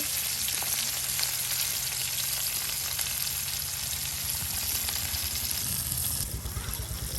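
Fish frying in oil in a pan for a rural-style taki fish mash, producing a continuous close, loud sizzle over a low rumbling hum, easing slightly near the end.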